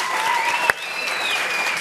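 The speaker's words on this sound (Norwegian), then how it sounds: "Stor applaus for dere." Studio audience at a live Norwegian talk show in Bergen giving sustained, dense applause, with a brief sharp accent partway through and continuing clapping to the end.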